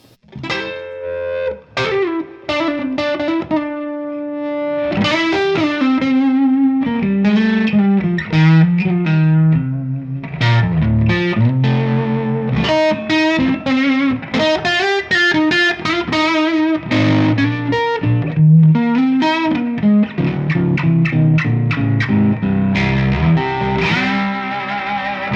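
Electric guitar played through a Golden Boy overdrive pedal set to its magenta clipping mode: continuous distorted chords and single-note lines with a thick, saturated tone, loud and close, with no talking.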